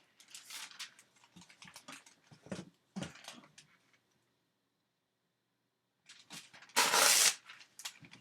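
Sheets of thin Tomoe River paper rustle and crinkle as they are handled during junk journaling, with soft bursts of crackling, a pause of near silence, then a loud close crumple.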